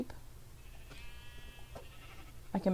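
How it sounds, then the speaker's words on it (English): Sheep bleating in the Minecraft video game: a wavering bleat in the middle and another sharper one at the end over quiet background ambience. "Some more sheep."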